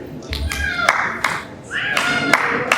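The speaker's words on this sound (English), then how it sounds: "It's a 3-beat clap." Audience clapping a three-beat clap along to a bhajan at an ISKCON Janmashtami gathering, sharp hand claps landing in small clustered groups over a murmuring room with some voices.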